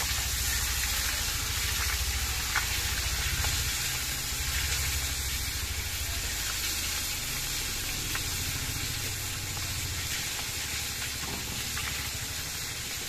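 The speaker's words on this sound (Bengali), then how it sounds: "এই পিসটা একটুখানি সময় ভেজে নিতে হবে।" Pieces of Ganges pangas fish frying in a pan, a steady loud sizzle and hiss of hot oil with faint crackles, running on evenly with no voices.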